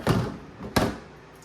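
Two dull thuds of a refrigerator door, one near the start and a sharper one about half a second later, followed by quiet.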